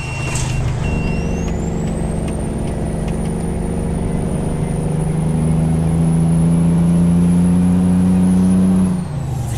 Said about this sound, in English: And there goes the engine.